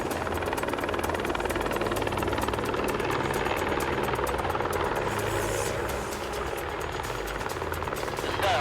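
Rescue helicopter running steadily and loud at close range on a New Zealand mountain, a constant rotor and engine roar with rhythmic blade thumping throughout.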